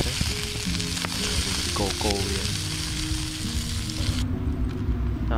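Food sizzles steadily in a pan while cooking outdoors at a tent campsite in V Kirirom, a close, constant frying hiss broken by a few clinks of stirring and no talk.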